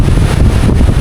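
Strong seaside wind at a resort in Dingalan, Aurora, buffeting the microphone in a loud, constant roar that fills the whole moment with no voices heard.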